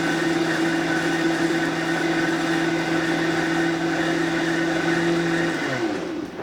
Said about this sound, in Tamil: ஆன் பண்ணுவோம் திருப்பியும். எவ்வளோ எஃபிஷியண்ட்டாக அரைக்குது பாருங்க